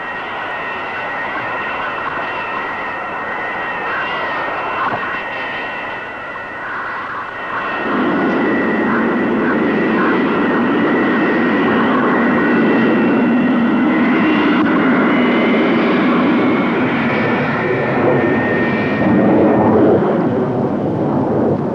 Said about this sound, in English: The 160-ton craft uses the reverse thrust of its engines to shorten the run.